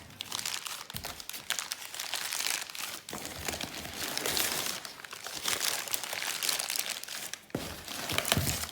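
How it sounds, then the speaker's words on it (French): Paper crinkles and rustles close up, several bursts of crumpling and handling that run nearly continuously, with no talk. "Désolée pour les bruits de papier."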